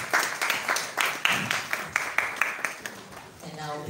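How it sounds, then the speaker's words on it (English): A live audience claps together in a loose burst at a gathering on mental health, the sharp hand claps fairly close and steady before thinning out toward the end. "Let's clap for ourselves."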